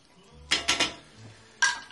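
A utensil scrapes and clanks in a pan of cooked sausage as it is stirred, three quick metallic knocks followed by another a moment later, close and without talk.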